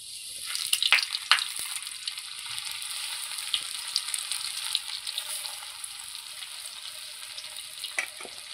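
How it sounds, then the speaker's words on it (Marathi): Spice-coated catla fish pieces shallow frying in oil in a pan, a steady soft hiss and crackle of sizzling throughout, with a few brief louder pops and spatters near the start and end. "आता आपण ह्याला शालो फ्राय करून घेऊया."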